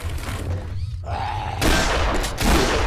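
Heavy gunshots from the video game Zompiercer boom in loud bursts, with a dull thud and groan between them in a dark tunnel setting.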